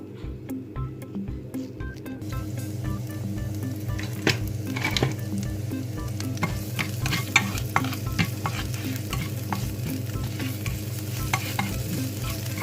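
Lemongrass frying and being stirred in a pan until it turns yellow, a steady close sizzle with repeated scraping stir strokes and a low rhythmic pulse throughout, no talking.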